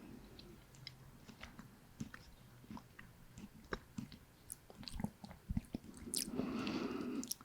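Chewing and crunching of lunch food close to the microphone, soft irregular bites and squishy mouth sounds, quiet and intimate, with a brief rustling swell toward the end.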